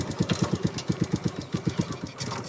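An old motorcycle engine idles nearby while a beginner learns to ride, putting out an even, rapid chugging of thumping beats that hold steady and soften slightly at the end.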